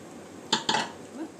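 A metal lid goes onto a pressure cooker holding chicken biryani. Two quick, close metallic clanks sound a fraction of a second apart, with a faint scrape after them.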